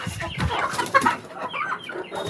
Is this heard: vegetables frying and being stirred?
no